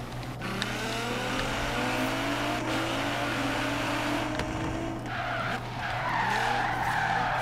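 Tyres on a 1200 HP Nissan GT-R skid as it drifts a corner in the video game Forza Horizon 3, a long loud squeal over a droning engine, pitch wavering as the slide continues.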